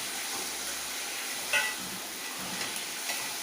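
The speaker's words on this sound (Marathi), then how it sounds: "आता याच्यातच आपण त्या बटाट्याच्या ज्या फोडी आहेत त्याही टाकणार, त्या परतून निघतात" Potato pieces fry in tomato masala in a pan for a potato and chickpea-greens vegetable dish, a steady soft sizzle and hiss with a brief louder stir partway through.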